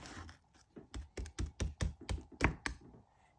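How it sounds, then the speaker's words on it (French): A small knife cutting through strawberry tiramisu, a series of about ten soft, close, quick taps and clicks against the dish, fairly quiet with no talking. "Nous, on a un petit couteau et nous allons couper."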